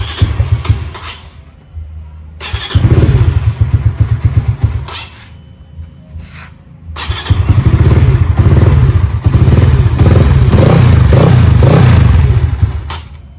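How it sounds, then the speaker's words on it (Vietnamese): A Yamaha Winner motorcycle sits parked with its engine running, a loud, close, steady rumble that drops briefly and then swells back, with some clatter and thumps. "Đậu máy anh em nghe tiếng máy thử nha."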